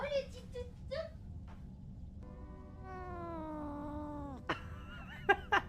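A cat, in a Skyrim gaming session, meows repeatedly in short chirping calls and then lets out one long, drawn-out wavering yowl before a few brief final mews, all fairly soft and close.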